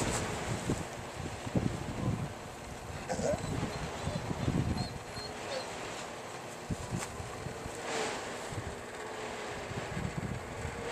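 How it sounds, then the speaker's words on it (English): Wind blows outdoors around a small solar power setup, a steady broadband rush with low gusty rumbles and some buffeting on the microphone, continuous throughout the clip. "the wind is blowing through the back of it outside"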